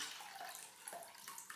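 Water from soaked raisins being drained and filtered in a home kitchen, a soft continuous trickle and splash with a few small drips and pours, close by and without talk.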